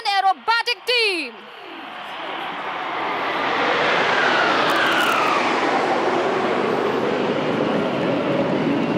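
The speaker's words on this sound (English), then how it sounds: "please welcome the ambassadors of the Indian Air Force, the Suryakiran Aerobatic team" Indian Air Force Suryakiran aerobatic team jets roar overhead at an air show on Chennai's Marina Beach, a broad sustained engine rumble swelling after a brief announcer's voice at the start and holding loud to the end.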